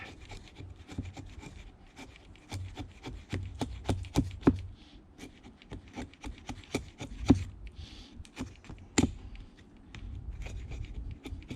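Wood being worked by hand for tent stakes at a campsite, a piece cut with a blade near an old rotten stump, giving close scraping, rasping strokes broken by sharp knocks and taps, with no voices.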